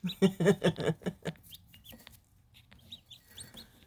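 Young barred rock chicks cheep in quick bursts of clucky calls up close, then thin to scattered faint peeps with quiet pauses between.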